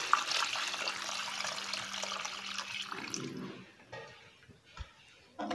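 Tap water runs steadily into a sink while eggs are washed for an egg curry, a continuous splashing flow that breaks off near the end into a few scattered drips and clatters.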